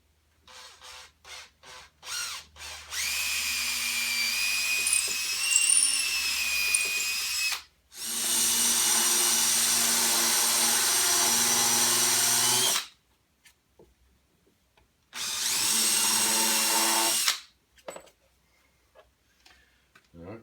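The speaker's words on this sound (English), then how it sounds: "I'm actually going to drill a slightly bigger hole in that board itself because I don't want it to split." A power drill bores a slightly larger hole through a board, running in three sustained whining bursts of several seconds each, separated by pauses and preceded by a few short clicks and taps.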